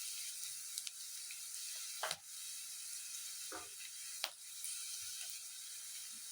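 Fenugreek leaves and field beans palya frying in plenty of oil, a steady low sizzle broken by several sharp scrapes and clicks of stirring, quiet and close, no talking.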